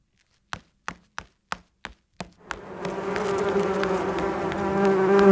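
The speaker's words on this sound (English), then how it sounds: "You're going to hear some bees, and then there's a little scream." Sharp evenly spaced knocks come first, then a bee sound effect in an audio editing project swells into a dense, steady buzzing that grows louder toward the end.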